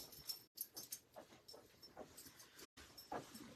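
A tall dog whimpers softly and repeatedly, frustrated by a ball dropped into a clothes basket, with faint whines and pants recurring in short bursts at a quiet, indoor distance.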